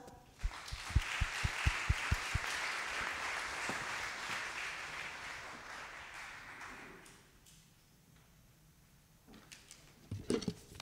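Audience applause at a conference debate on the isolation of elderly people, starting with a few distinct claps that swell into steady moderate clapping across the room, then fading out and leaving quiet shuffling and small handling noises.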